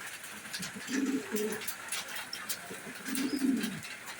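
Budapest pigeons coo in two soft, throaty bursts, close by, over a faint background hum with light rustling.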